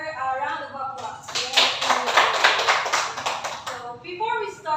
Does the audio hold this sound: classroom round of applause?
yes